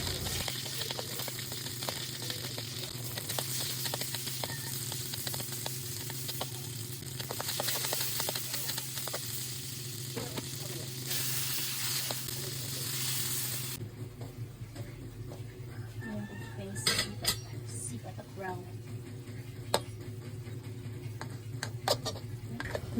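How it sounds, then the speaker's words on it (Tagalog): Batikon fish frying in a pan, a steady loud sizzle with faint ticking and pan sounds for the first half, then quieter crackling with scattered clinks, no talk over it. "Ato sa prituhon ang batikon"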